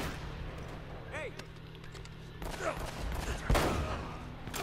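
Gunfire from the player's gun in Uncharted: Drake's Fortune (Nathan Drake Collection): scattered sharp shots and a brief burst, moderately loud against game ambience, with a voice talking over it.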